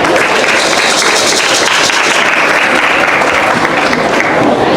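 A large crowd at an Indigenous gathering in Brazil applauds loudly and continuously for cacique Jonas Moura, a dense, sustained wash of clapping with faint voices mixed in.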